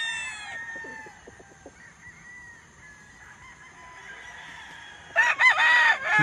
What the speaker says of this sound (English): Beautiful chicken.